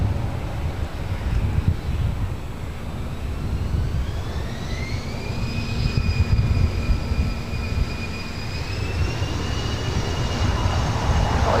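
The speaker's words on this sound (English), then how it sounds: "Heavy Delta Heavy A330 Neo coming in from JFK" A Delta Airbus A330neo heavy jet comes in to land at LAX, a low rumbling roar under a rising, then steady whine, loud and continuous throughout against wind noise.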